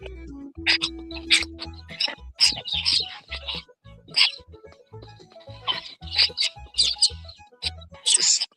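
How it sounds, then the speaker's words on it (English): Cockatoos chirp and call in a busy, overlapping flock, with sharp repeated squawks and tweets coming in quick bursts over a low steady hum, near and fairly loud throughout. "So much more bird noises than what you can actually visually see."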